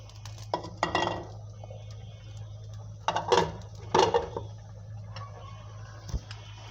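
Fried rohu fish pieces go into a simmering curry in a pan, giving a few soft clinks and sizzling bursts over a steady low hum, with scattered utensil taps near the end.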